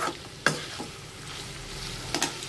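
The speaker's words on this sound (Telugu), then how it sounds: "ఆ నీరంతా పోయేదాకా వేపుకోవాలి. ఇట్లా వేపుకుంటూ ఉండాలి కొంతసేపు." Cluster bean curry is stir-fried in a pan to cook off its water, giving a steady soft sizzle broken by two sharp scraping stirs of a spatula, near and with no talk.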